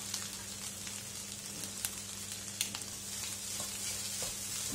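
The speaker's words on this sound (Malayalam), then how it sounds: "ഫ്ലെയിം കുറച്ചിട്ടുണ്ട്, ഇപ്പോൾ ലോ ഫ്ലെയിമിലാണ് വെച്ചിരിക്കുന്നത്. നന്നായിട്ട് മുട്ട ഒന്ന് ഡ്രൈ ആയിട്ട് വരട്ടെ." Spiced scrambled eggs (egg bhurji) fry gently on a low flame, a soft, steady crackling sizzle with a few faint clicks from the spatula, quiet and close.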